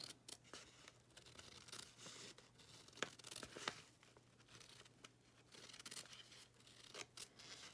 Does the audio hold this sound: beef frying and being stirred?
no